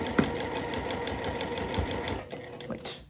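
Sewing machine stitching a seam on a floral sundress: a fast, steady mechanical whirr with rapid needle ticks that runs close and continuous, then slows and stops near the end.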